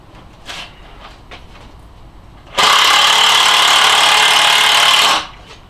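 A power driver with a T40 Torx bit drives a screw into a wooden swing set, giving a single loud, steady whir of about two and a half seconds after some quiet handling knocks, with no talking.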